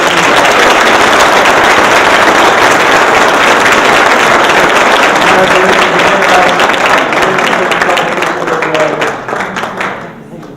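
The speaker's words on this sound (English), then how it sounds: "So we'd like to give a big round of applause to Alex." Loud, dense applause from a crowd at a junior golf banquet, sustained for several seconds before gradually thinning and fading out.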